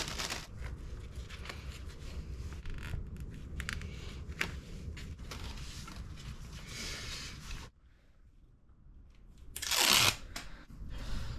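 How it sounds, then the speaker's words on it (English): Zip ties being pulled tight to fasten a new radiator guard on a Triumph Tiger 1050 Sport motorcycle: a long stretch of dense rasping ratchet clicks, a brief quiet pause, then one sharp, louder zip. "What we'll do now is use the zip ties that it comes with."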